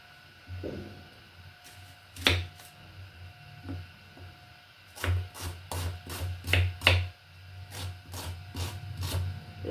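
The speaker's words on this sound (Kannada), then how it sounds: "ಮೊದಲಿಗೆ ಇವೆಲ್ಲ ತರಕಾರಿನ ಕಟ್ ಮಾಡ್ಕೊಳ್ಳೋಣ" Vegetables being chopped on a board for tomato rice: sharp knife taps, a lone strike then a quick irregular run of cuts, over a steady low background hum.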